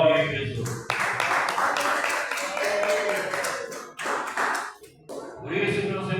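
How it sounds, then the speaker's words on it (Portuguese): A church congregation claps in short bursts, the close hand claps mixing with a preacher's voice and stopping and restarting several times. "Palmas e glória a Jesus"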